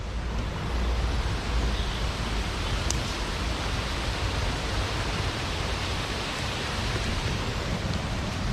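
A waterfall on the Fairbottom branch canal near Park Bridge Ironworks pours in a constant hiss-and-rumble of falling water, even and unbroken for the full stretch, with no one speaking.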